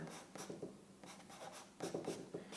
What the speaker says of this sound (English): So I'm gonna just write down here art.